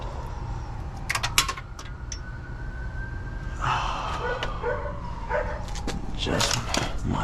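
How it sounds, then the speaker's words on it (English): A dog barks repeatedly at a distance in a garage or shop where a supercharged Hemi race car is being worked on, with sharp intermittent yaps over steady background noise and passing siren-like tones. "That dog is so annoying."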